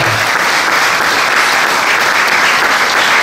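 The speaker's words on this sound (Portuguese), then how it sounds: "uma grande salva de palmas para a direção dos Jornalistas de Portugal." An audience at an accordion festival applauds the festival's organisers, thick continuous clapping that stays loud and even from start to finish with no talking over it.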